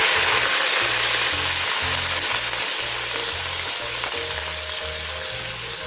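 Onions fry steadily in ghee with whole cumin, a loud continuous sizzle with a faint low rhythmic hum running underneath the whole time.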